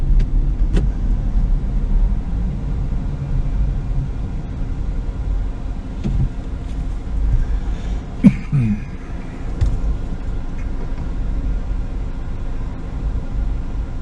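Cars sit backed up in traffic at bridge roadwork, a steady low rumble of idling engines heard from inside a vehicle, with a few faint knocks and one sharp click in the middle.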